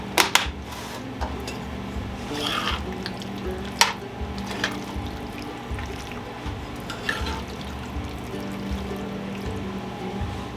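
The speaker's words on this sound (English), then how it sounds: "We're just going to stir in the Parmesan cheese." Parmesan cheese being stirred into a skillet lasagna, with a soft steady sizzle and wet stirring beneath a few sharp utensil clicks and scrapes against the pan, close and moderately quiet.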